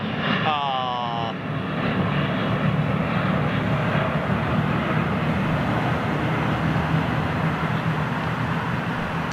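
A Boeing 787 Dreamliner passes with a loud, steady jet engine roar, broad and continuous with a faint high whine, after a short electronic beeping at the start, while a person speaks nearby.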